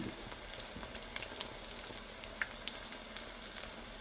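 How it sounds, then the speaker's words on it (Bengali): Kechki fish fritters frying in oil over low heat, a soft continuous crackling sizzle with scattered small pops, fairly quiet and without voices. "আস্তে আস্তে জাল দিয়ে ভাজতে হবে।"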